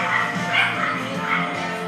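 Chocolate lab and golden retriever puppies bark and yip close by in a few quick high-pitched bursts, with a bit of whimpering mixed in.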